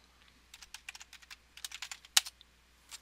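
Quick bursts of computer keyboard typing during a password login, with light close key clicks in uneven runs and one sharper keystroke near the end, with no talking.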